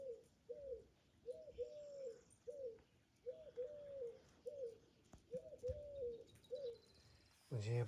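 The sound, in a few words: birds singing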